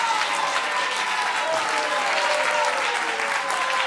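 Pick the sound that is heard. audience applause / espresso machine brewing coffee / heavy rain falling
audience applause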